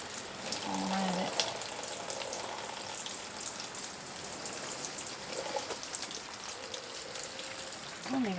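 Garden hose watering tomato plants, a soft, continuous hiss and patter of water spraying onto leaves and soil, with a voice briefly audible early on.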